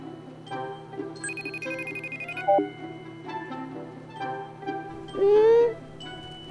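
A phone rings with an unanswered video call, playing a repeating melodic ringtone of bright, chiming tones in short phrases, fairly close and clear.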